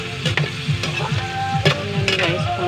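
Pork adobo browns in a hot pan, sizzling steadily while a utensil stirs and scrapes in a few quick strokes, close and fairly loud with no talking.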